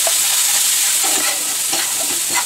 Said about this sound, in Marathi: छान टोमॅटोला तेल सुटेपर्यंत हे भाजून घ्यायचं आहे